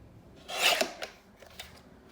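Scissors snipping paper for a 12x12 scrapbook layout, a quick burst of cutting then a few lighter snips, close and quiet with no talking.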